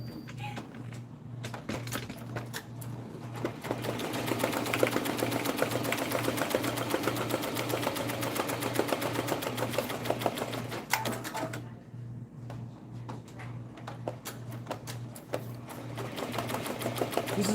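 An embroidery machine stitches in a steady, rapid mechanical chatter close by, with a fast needle rhythm and a low motor hum, pausing briefly near the start and again partway through before resuming.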